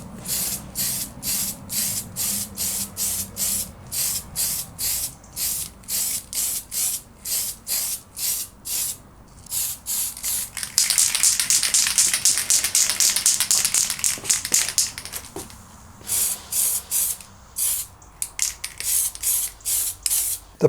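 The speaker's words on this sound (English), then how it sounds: "give it a few coats of the plastic primer" Plastic primer sprayed from a can onto vintage Kenner AT-AT toy parts in repeated short hissing bursts, with one longer continuous spray in the middle, close and fairly loud, no talking.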